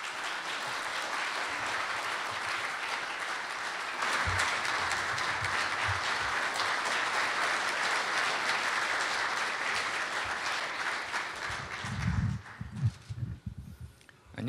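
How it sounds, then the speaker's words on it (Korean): Large audience applause at a Korean CEO forum as presidential candidate Ahn Cheol-soo is welcomed, a thick, steady roar of clapping that holds for many seconds, then thins out near the end with a few heavier thumps and shuffling. "큰 박수로 부탁드립니다."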